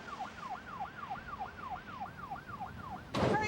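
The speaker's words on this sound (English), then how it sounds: "When I heard the sirens" A wailing emergency siren from a Stokes County ambulance or volunteer fire department rescue vehicle, sweeping up and down steadily for several cycles at moderate distance, then cut off by a sudden loud burst of noise near the end.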